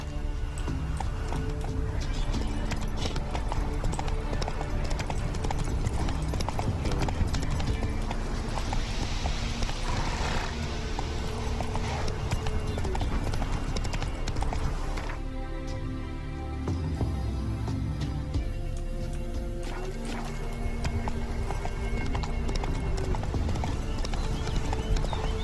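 Roach, a horse in the video game The Witcher 3, galloping with rapid rhythmic clip-clop hoofbeats, briefly slowing and whinnying before running on, with game ambience and occasional voices underneath.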